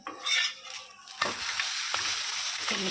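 Butter melts and sizzles steadily in a hot pan, with a bright crackle building after a few stirring scrapes and light utensil contact, close and continuous.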